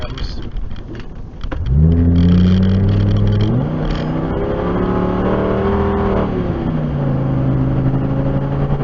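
Car engine heard from inside through cheap dash cams on a freeway, revving up sharply as it accelerates through gear shifts, loud and close, with a whining, slightly tinny tone.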